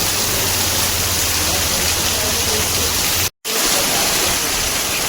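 Heavy monsoon rain pours in a Konkan village, a loud dense unbroken roar of downpour, cut only by a momentary break.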